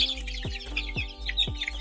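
Kadaknath chickens cluck in short, repeated calls about every half second over a steady low hum. The birds sound close, and no one talks.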